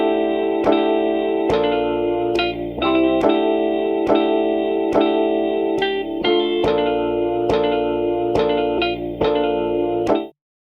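A sequenced, high-pass-filtered Arterberry loop from the Native Instruments Satin Looks expansion repeats rhythmic tonal chords with sharp bright accents, steady and loud throughout, ending abruptly with no speech.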